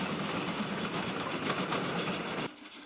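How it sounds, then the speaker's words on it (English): Two steam locomotives, a 2P number 40652 and a Standard Class 5, haul a down train into the short 66-yard twin-bore Chilcompton Tunnel on the Somerset and Dorset line, giving a steady, heavy rumbling clatter that drops away abruptly near the end. "A 2P number 40652 and a standard class 5 on a down train, entering the short 66-yard twin bore of Chilcompton Tunnel."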